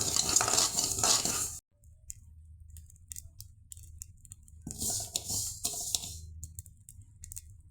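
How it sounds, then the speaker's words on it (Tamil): Mustard seeds dry roasting in a pan for an Indian pickle spice powder, a loud burst of scraping and crackling that drops away, then scattered sharp pops and stirring scrapes return, with no voices. "கடுகு நல்லா பொரியுதுங்க."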